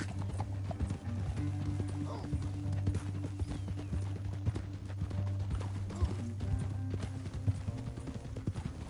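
Horses gallop in Red Dead Redemption 2, a dense, continuous drumming of hooves at a fast rhythm, close and steady throughout over a low game drone.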